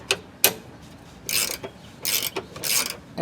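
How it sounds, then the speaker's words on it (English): Wrench work on a rear AC line fitting of a 2012–2016 Chrysler Town & Country or Caravan minivan, with a 13mm wrench and an adjustable wrench: sharp metallic clicks, then bursts of ratcheting and scraping, close and fairly loud, with no talking. "take a 13mm wrench and completely disconnect this"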